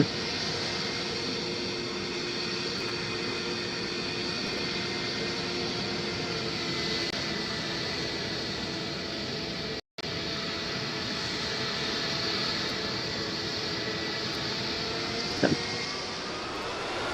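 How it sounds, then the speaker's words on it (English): Simulated Boeing 727 jet making a pass at a Roblox PTFS airshow, a steady broad engine roar holding for the whole stretch with one brief dropout near the middle and no talking. "hopefully we can get a couple of passes and landing. As we will hear from this 727"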